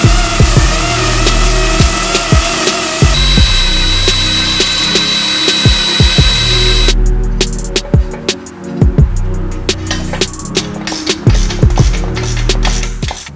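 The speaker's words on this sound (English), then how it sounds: "I'm gonna grind that flat and then re-drill that hole" A power grinder and drill work metal on a Toyota pickup's clutch pedal assembly, giving a loud, continuous whine with repeated sharp clicks and shifts in pitch, close by and with no talking.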